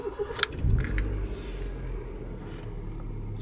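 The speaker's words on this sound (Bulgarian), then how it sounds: "Аз викам да седна отпред и да видим как се движи колата" A car engine rumbles low and steady while driving, with a few knocks and rustles near the start, then a constant droning hum as the car moves along, no talk heard.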